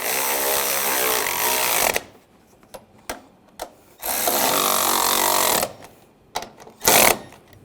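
A power tool snugs up the strut bolts on a 2007-2013 BMW 328i in two loud bursts of a couple of seconds each, separated by short clicks and handling noises, then a final quick burst.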